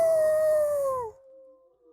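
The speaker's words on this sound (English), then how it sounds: "there are dogs now howling in the background" Dogs howl in the background in a long, sustained wail that bends slightly downward, then cuts off into a faint trailing tone. No one speaks.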